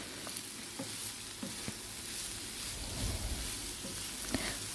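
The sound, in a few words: stirring radish stir fry with chili powder in pan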